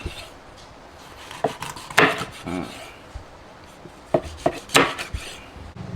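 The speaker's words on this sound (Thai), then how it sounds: "เดี๋ยวก็จะหั่นเป็นชิ้นๆ" A knife chops white fish into pieces against a cutting board in irregular bursts of sharp thuds, some single, some in quick pairs, close and clear with quiet pauses between.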